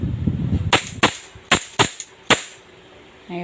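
Gas airsoft pistols such as a Hi Capa or M92 Beretta being test fired, five or six sharp cracking shots at uneven intervals, close and loud, with a short burst of rustling before the first shot.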